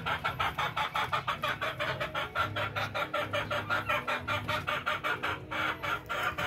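Pinoy gamefowl chickens cluck together in a pen, a dense, continuous chatter of overlapping calls from several birds, loud and nearby, with no talk over them.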